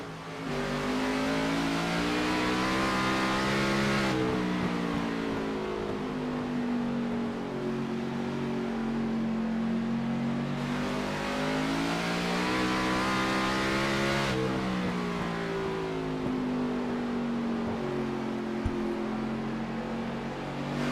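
Race cars on an oval track during an all-star race roar past in a loud continuous stream, engines rising and falling in pitch as they accelerate through the turns, close and alone.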